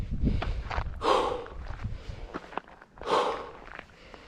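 Heavy breathing while climbing a steep uphill trail, with loud gasping breaths and snorts recurring roughly every two seconds among soft footsteps, close to the microphone, no talk.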